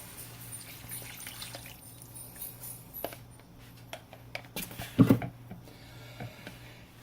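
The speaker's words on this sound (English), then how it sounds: "stir my slurry. Stir, stir, stir, stir, stir, stir. And then add it to the pan." Cornstarch slurry for a steak bourguignon poured into the pan, a soft, quiet liquid trickle with a brief splashier burst midway, no talk.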